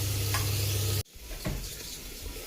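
Browned onions for dal makhani sizzle and get stirred in a hot pan, a steady close frying hiss broken by a brief pause before the crackle resumes, with no voices.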